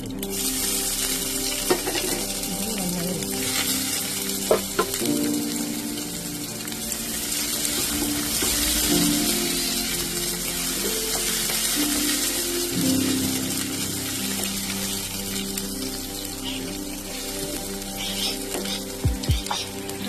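Crushed ginger, garlic and curry leaves fry in hot oil for a Kerala-style squid dish, giving a loud, steady sizzle with scraping stirs and a few sharp clinks.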